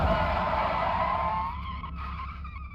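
A loud, close tire skid from a minivan under handbrake in the racing game Automation, a screeching squeal that fades after about a second and a half.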